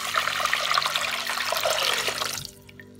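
Water pours into a pot over frying carrots and onion for vegetable soup, a loud, close rushing splash that runs steadily and then stops, leaving a faint simmer.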